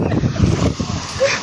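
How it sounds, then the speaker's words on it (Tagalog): Strong wind over Laguna Lake buffets the microphone with a steady low roar, gusting throughout the short stretch, while faint voices sit underneath. "Lakas ng hangin kasi."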